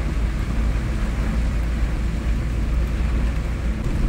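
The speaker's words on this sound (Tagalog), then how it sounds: "Malakas ang hangin, malakas ang ulan." Strong wind and heavy rain in Tapol, Tabugon, a steady, loud, unbroken roar that holds for the full four seconds with no talking.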